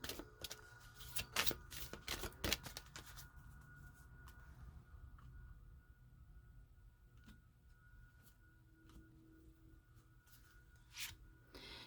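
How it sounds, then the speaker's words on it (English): A quick flurry of papery riffles and slaps as tarot cards are shuffled close up, followed by quieter scattered handling noises. "A couple more shuffles here."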